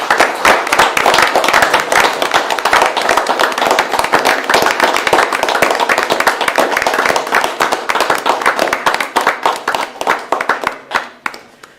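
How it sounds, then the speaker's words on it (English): An audience at a Boonville, Missouri city council meeting gives a round of applause. The sustained, many-handed clapping fills the room, then thins and tapers away near the end. "Let's give a round of applause for"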